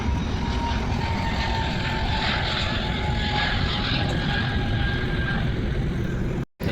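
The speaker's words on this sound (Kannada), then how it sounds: "ಎಲ್ಲ ಫ್ಲೈಟ್ ಹೋಗ್ತಿದೆ" Aircraft engine noise at Kempegowda International Airport, a loud, steady roar with a droning hum filling the whole stretch before cutting out abruptly at the end.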